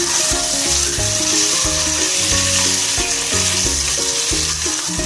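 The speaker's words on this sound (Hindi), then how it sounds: "और अंडों को अच्छी तरह हम फ्राई कर लेंगे।" Eggs shallow-fry in a pan for a Dhaba-style egg curry, a continuous hissing sizzle beneath loud background music.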